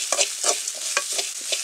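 Coriander, cumin, onion and grated coconut roast in a pan, with soft sizzling and repeated scraping stirs of a spoon, close and clear, no talking.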